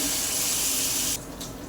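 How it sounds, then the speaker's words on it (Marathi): Water pours steadily into a cooking pot of sprouted moth beans and potato in a loud, hissing stream for about a second, then stops abruptly, leaving faint clinks. "आपण आता पाणी ॲड करतोय"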